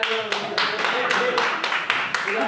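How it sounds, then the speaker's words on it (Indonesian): A group of students clapping their hands together in a classroom, a steady run of sharp claps close by, with voices talking softly underneath. "Ya, tepuk tangan dulu."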